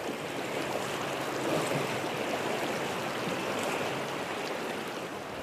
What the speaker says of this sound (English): Professor Ran Ruichan crosses a swift-flowing tributary north of the river